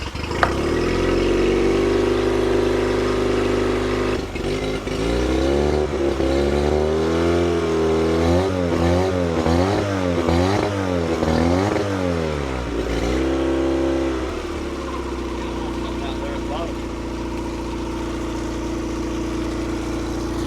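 A small engine catches without the choke and runs rough, then revs up and down in repeated surges before settling back to a steady, loud idle.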